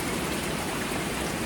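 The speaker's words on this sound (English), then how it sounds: "it's been a great rainy evening" Steady rain falls on an off-grid home in Puerto Rico in the evening, a dense, continuous hiss of drops with no break, close and even in loudness.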